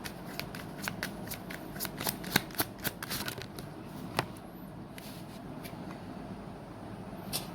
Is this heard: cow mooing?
no